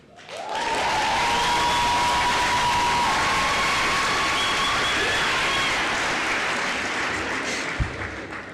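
A large graduation ceremony audience claps steadily for several seconds, a dense, sustained roar of applause that swells quickly and tapers slightly at the end.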